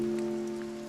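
Rain falling in The Haunting of Joni video game, a faint even patter layered over a steady low hum, with scattered soft droplet taps.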